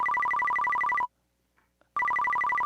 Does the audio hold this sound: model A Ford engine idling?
no